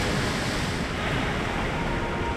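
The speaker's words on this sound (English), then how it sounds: "The sun's light plays upon the waves, just as it always did. The sails flutter in the wind, just as they always will." Steady ocean surf washes continuously alongside wind noise in Divinity: Original Sin II, a dense, even roar of waves with no breaks, fairly loud and without voices.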